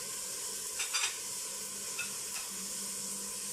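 Stirring carrots in a sizzling pan while cooking shrimp pasta with corn: a constant soft frying hiss with a few brief scraping stirs, fairly quiet and with no talk.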